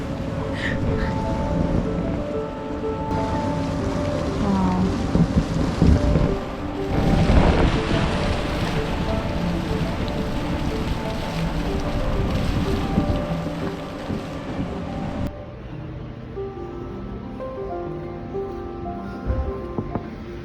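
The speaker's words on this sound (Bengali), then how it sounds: "নরওয়েতে ফেরিতে করে কোথাও যাওয়া প্রথমবার আমাদের জন্য" A ferry crossing open water in Norway in calm, fair weather: a steady low engine rumble and hum with a droning tone, joined by wind buffeting the microphone and a faint wash of water, continuous throughout.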